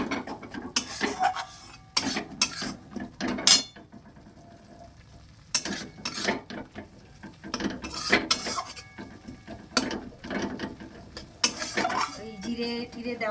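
Spices stirred together in a cooking pan while soybean chunks are being prepared, heard as intermittent metallic scraping and clinks of a spoon against the pan over a faint sizzle, close by with quiet gaps between strokes.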